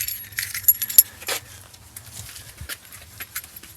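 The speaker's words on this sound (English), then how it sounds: "These appear to be the original keys, and we have some more keys that came with it." The original key set from a 1968 Ford F250 jangles up close in a few sharp metallic bursts, then lighter scattered clinks as the keys settle.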